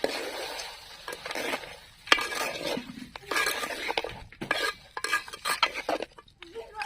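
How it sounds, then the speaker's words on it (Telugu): Tomatoes and salt stirred in a pot for village-style boti curry, a close series of uneven scraping and clattering strokes of a spoon against the pot over a light sizzle, with short pauses between bursts. "దానితో పాటు చెంచా ఉప్పు వేసుకొని కలుపుకుందాం"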